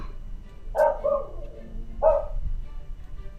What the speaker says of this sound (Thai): สุนัขข้างบ้านก็เหมือนเดิม